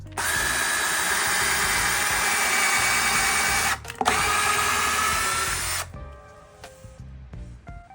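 A power drill fitted with a 3D printed bit widens an existing hole, whining loud and steady for several seconds with a brief stop and restart, then winds down into quieter clicks and handling noise.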